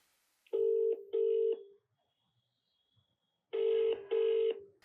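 Telephone tones sound while a conference call is being merged: four clear electronic beeps in two pairs separated by a short silence, crisp and close.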